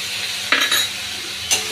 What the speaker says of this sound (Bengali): এবার এগুলোকে নাড়াচাড়া করব, একটু জল দিয়ে দিয়ে এগুলোকে আস্তে আস্তে কষে নেব